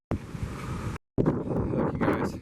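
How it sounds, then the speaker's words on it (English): Gusting outdoor wind buffets the microphone in a loud, rough rumble, cutting out briefly for a moment before the blustery roar returns. "wind's blowing."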